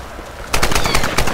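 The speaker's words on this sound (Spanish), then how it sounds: "Eso sí me tengo que aprovechar de disparo automático." Automatic weapon fire from the video game Tomb Raider Definitive Edition: after a brief stretch of quiet ambience, a loud, rapid stream of close gunshots begins and continues steadily to the end, with no talking.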